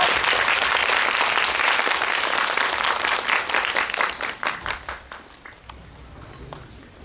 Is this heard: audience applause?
yes